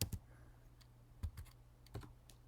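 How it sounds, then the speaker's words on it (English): Typing on a computer keyboard while entering a math formula: a few sharp, isolated key clicks spaced irregularly over about two seconds, close and fairly quiet, with no talking. "we can do this by simply typing cosine"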